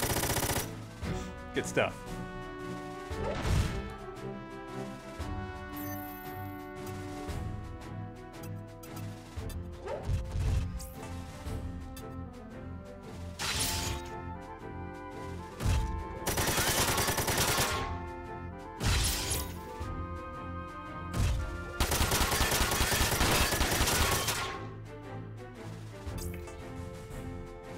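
Mech weapons in the Front Mission 4 video game fire in repeated heavy bursts and crashing impacts across a long battle stretch, some salvos dense and rapid, with game music and occasional speech in between.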